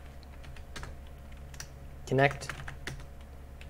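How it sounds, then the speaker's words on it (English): Keys clatter on a computer keyboard as a Roblox Studio script is typed, with irregular close taps scattered through the stretch and a short spoken word mixed in. "I'm going to show you guys how to get your coordinates and stuff after I get done typing the rest of the script"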